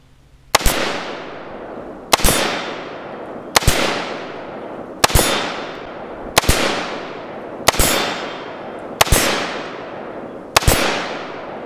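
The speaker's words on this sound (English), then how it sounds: "Shoot that keg a little bit." Eight sharp AR-15 rifle shots ring out at a steady pace, each crack followed by a metallic ring from a struck keg decaying before the next, loud and close.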